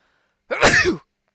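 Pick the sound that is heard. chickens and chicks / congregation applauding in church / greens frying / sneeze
sneeze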